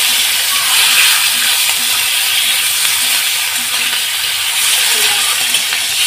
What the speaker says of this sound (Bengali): দিয়ে আমি বাঁধাকপিগুলো এর মধ্যে দিয়ে একটু হালকা হাতে ভেজে নেব।